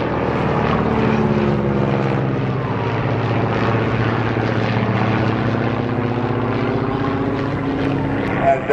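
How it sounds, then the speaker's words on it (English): Two vintage FE2b biplanes fly past at a vintage aircraft show in Martinborough, their propeller engines giving a steady, loud droning hum that holds throughout while someone talks over it. "There's two FE2Bs flying in front of us today."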